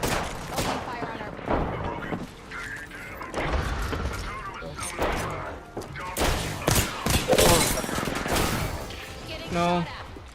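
Gunfire in Apex Legends, dense bursts of automatic shots and impacts mixed with game effects, loud and continuous, with players talking over it.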